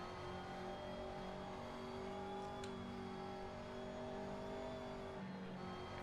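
McLaren MP4-12C GT3 race car at Spa in the Assetto Corsa racing game, its engine holding a steady drone while it accelerates, alone and moderately quiet, with a brief click near the middle.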